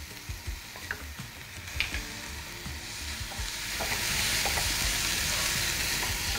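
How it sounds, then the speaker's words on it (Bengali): Spice paste sizzles and fries in a pan for ghugni, a steady crackling hiss with scattered pops and occasional stirring scrapes, growing a little louder toward the end, with no voices. "মশলাটা ভাজা ভাজা হয়ে গেছে"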